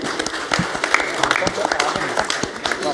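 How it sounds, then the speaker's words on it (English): A round of applause at a boxing press conference in London's O2 arena, steady dense clapping from the room with sharp individual claps standing out, heard at moderate loudness throughout with some voices mixed in. "You got a round of applause."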